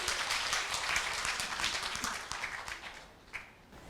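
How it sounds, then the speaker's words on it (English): An audience at a community talk claps for a speaker, a brisk, moderately close round of many hands that thins out and fades toward the end, leaving a few scattered claps. "Round of applause. Come on for her courage."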